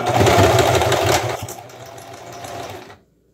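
A close, loud sewing machine runs fast, stitching fabric for a Dollar Tree craft, with a rapid mechanical whir that slows and softens before it stops abruptly.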